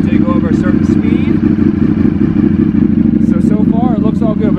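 A Ducati Panigale motorcycle with a Bren stage 2 flash idles loudly up close, its exhaust a deep, steady throbbing rumble while people talk over it.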